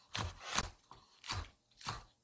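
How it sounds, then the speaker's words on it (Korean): A knife slices thin homegrown green onion on a cutting board, giving four crisp, separate chops at an uneven pace, close by and quiet, with no talking. "대파지만 이렇게 해서 숭숭숭 썰어주시고"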